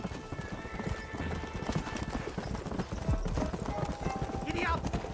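Horse hooves gallop in rapid clip-clop rhythm through the Western video game Red Dead Redemption, loud and steady, with a rider's shouts over them.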